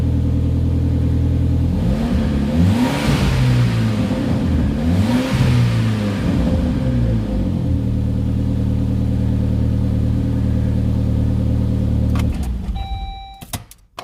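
A Saab 9-5 Aero engine runs steadily after a fuel pump install, a loud, close, even idle with a couple of brief revs early on, then cutting off near the end with a few small clicks.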